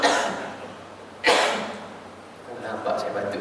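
Single sharp cough from a man during a Malay-language religious lecture, loud and close, surrounded by ongoing speech.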